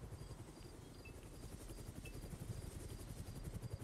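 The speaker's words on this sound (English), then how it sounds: "Helicopter." A helicopter in the video game Chernobylite, with a steady, rhythmic rotor thumping that stays low and continuous throughout, moderately quiet and unbroken by talk.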